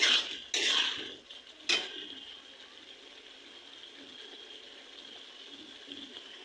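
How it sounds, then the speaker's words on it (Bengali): Spices and lentils stirred and fried in a pan, with a few loud metallic scrapes and clanks of a spoon against the pan early on, then a quiet low sizzle. "এবার ভালো করে এটা কষিয়ে নিই"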